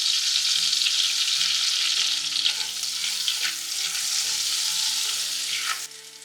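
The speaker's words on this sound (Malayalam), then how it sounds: "നല്ല ജീരകം ഇട്ട് കൊടുക്കാം." A quarter teaspoon of cumin seeds fries in two melted butter cubes in a pan for potato butter masala, producing a loud, steady, close sizzle that eases slightly just before the end.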